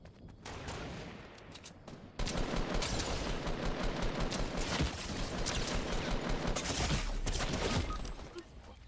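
Sustained video-game gunfire in a multiplayer shooter match: dense, rapid bursts of shots fill the whole stretch, growing heavier partway through, loud and continuous without pauses.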